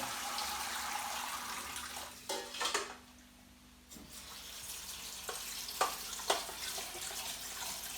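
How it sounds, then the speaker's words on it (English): Cold tap water runs over freshly drained pasta in a kitchen sink, a steady broadband hiss that briefly breaks off and resumes, with a few small clatters near the end. "I'm going to put cold water through it to stop it from cooking"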